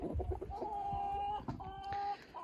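Chickens cluck and roosters give drawn-out calls nearby, a few overlapping farmyard sounds with no talking.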